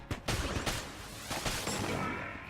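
Rapid bursts from the strafe gun in Enter the Gungeon crackle out as a quick fusillade of shots, dense and fairly quiet, fading into a lingering wash of reverb.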